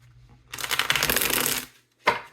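Tarot cards riffled in one dense, continuous shuffle lasting about a second, close and fairly loud, followed by a short gap and a single sharp card snap or tap.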